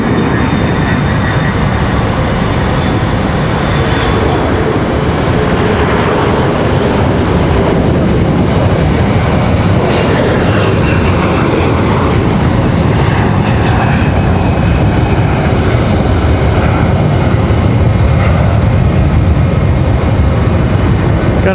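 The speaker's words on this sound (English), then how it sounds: "Got an A321 for American Airlines making their way out." An American Airlines A321 jet departs Raleigh-Durham, its loud engine roar sustained and building as it rolls and climbs away, steady for the whole stretch.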